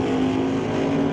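Drag racing cars at a Doorslammers race, with a Studebaker in the left lane, give a steady loud engine roar with a sustained droning tone throughout.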